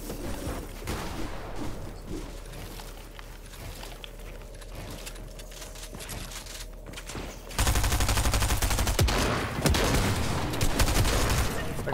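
Pump shotgun blasts crack through a busy trio arena video game match, layered with other gunfire and game noise, getting louder and denser in the second half with faint talk underneath.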